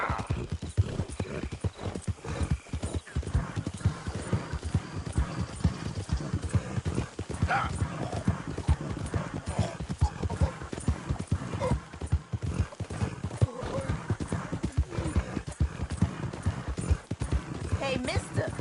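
Horses in Red Dead Redemption 2 gallop with rapid, continuous hoofbeats and occasional neighs, close and loud, while people talk over the action.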